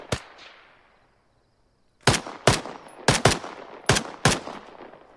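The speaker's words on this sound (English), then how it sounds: "As soon as they open fire." Gunfire in the video game Arma 3 during a night assault: a single sharp shot with a trailing echo, a short silence, then a run of six loud, close bursts spaced unevenly, each decaying into reverb.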